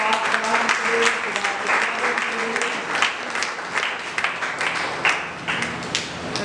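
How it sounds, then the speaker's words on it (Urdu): A church congregation at a Sunday prayer meeting claps energetically in praise of the holy word, with sharp, close hand-claps inside a sustained applause and a voice carrying faintly beneath it. "زوردار تالیاں زندہ پاک کلام کے لیے۔"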